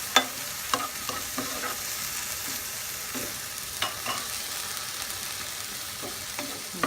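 Apples, onions and garlic cooking in a pan, a soft steady sizzle with scattered light clicks and scrapes from stirring, fairly quiet and close, with no talking.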